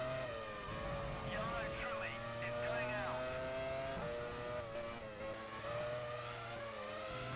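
A 1999 Jordan Formula 1 car in the F1 Challenge racing game screams through a qualifying lap at the British Grand Prix, a steady high-pitched engine whine that shifts pitch through gear changes and corners.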